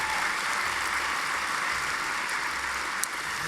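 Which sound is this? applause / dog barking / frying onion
applause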